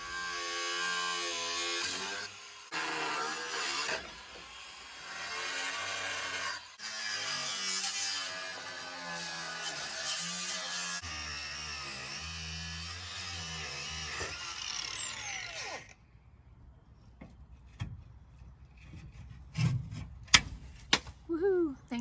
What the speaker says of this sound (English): I don't love grinding.